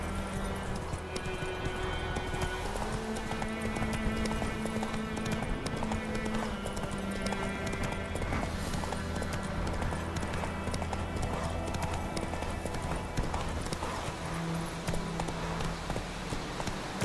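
Horse hooves clip-clop at a steady riding pace in The Witcher 3, continuous and close under game music, with a brief whinny-like tone and occasional voice.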